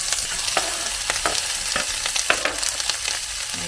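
Pork and potatoes fry in a home kitchen pan in Japan, a close, constant sizzle broken by sharp scraping clicks of stirring, with no one talking.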